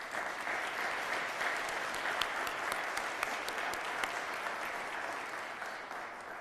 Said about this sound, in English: So please give all of our commissioners and Lee Todd a round of applause.